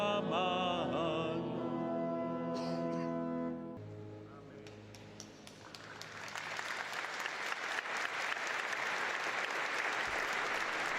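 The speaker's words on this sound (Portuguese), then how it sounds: "Brota um aplauso dos fiéis presentes na Grande Basílica de São Pedro, na conclusão da audiência geral desta quarta-feira." Faithful gathered in St. Peter's Basilica applaud at the close of a Wednesday general audience. Sustained tonal voices give way to dense applause that swells and fills the vast space, growing louder to the end.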